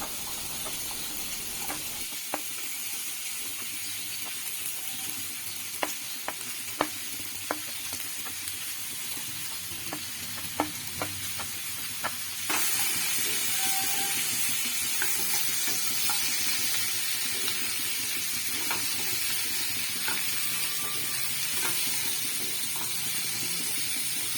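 Mixed vegetables for a masoor dal sabji fry in a pan with a continuous loud sizzle and hiss, while a spatula scrapes and knocks at intervals; the frying grows steadier and louder partway through, with no talking.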